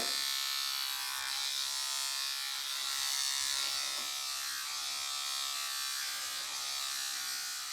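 A Microtouch Titanium Trim electric hair trimmer buzzes steadily through hair for several seconds, a close, continuous motor whine that rises and dips slightly as it is passed through the hair.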